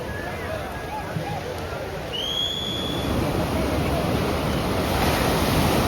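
Continuous rush of sea waves and surf as the tide comes in on the Konkan coast at Kunkeshwar, with wind buffeting the microphone, growing a little louder toward the end.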